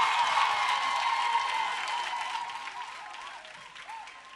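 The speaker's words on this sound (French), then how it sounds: "Applaudissements pour elle." Audience applause at a televised singing contest semi-final, a dense wash of clapping that starts strong and slowly fades over a few seconds, heard alone.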